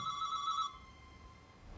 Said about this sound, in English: You'd better answer that phone.